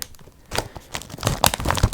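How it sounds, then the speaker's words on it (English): A chip bag crumpled and crinkled up close for ASMR, giving sharp, irregular crackling bursts that grow denser and louder after a quiet start, with no talking. "Chip bag crumpling sounds."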